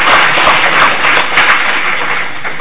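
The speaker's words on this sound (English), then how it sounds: "Round of applause for the students." An audience at a plenary panel event applauds the students in attendance, producing a loud, dense, continuous clapping that fills the whole clip and fades slightly near the end.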